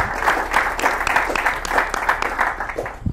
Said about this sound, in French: On applaudit très fort pour ça.